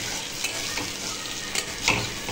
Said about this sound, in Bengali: একদম লো ফ্লেমে আমি এটা দেখুন কত সুন্দর করে ভেজেছি